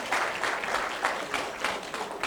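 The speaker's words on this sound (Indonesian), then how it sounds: "Tepuk tangan untuk orang Bali." A small group claps for a few seconds in a steady rhythm of pulsing hand claps, fairly close and moderately loud, with no talking over it.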